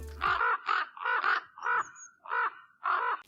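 A common raven gives a series of hoarse, croaking calls, about eight in a steady rhythm, fairly close and clear against a quiet background.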